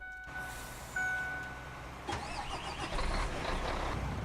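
A truck engine in the video game Farming Simulator 19 cranks over with a chime, catches and settles into a steady mid-pitched idle, heard up close with no talking.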